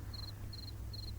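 A cricket chirps three times in an evenly spaced series of short, high trills over a low, steady hum, the talking cricket from a French audiobook of Pinocchio.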